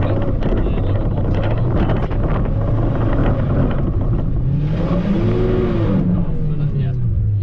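A Mazda MX5 with a welded differential drifts under heavy power, its engine droning loudly beneath buffeting wind noise, with the pitch rising and falling mid-slide while people talk inside the car.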